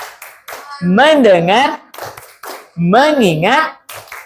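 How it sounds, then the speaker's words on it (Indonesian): A school class performs a rhythmic concentration clap, short bursts of hand claps alternating with loud, sing-song group chanting of voices close by. "tepuk konsentrasi"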